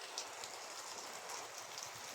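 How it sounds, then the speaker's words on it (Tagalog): Heavy rain pours down steadily in a dense, constant hiss with faint scattered drops, heard alone without voices. "Sobrang lakas ng ulan."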